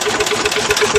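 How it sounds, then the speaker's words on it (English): The Wisconsin engine on a Bolens 1250 garden tractor runs with a steady, rapid, rough chugging pulse, heard close and alone. "I'm going to see if I can just start it up again and show you how well this Wisconsin runs."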